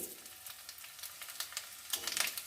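Dried red chillies, whole garam masala and cumin seeds sizzle in hot oil, a soft hiss that breaks into brighter crackling bursts growing louder toward the end, with no voices.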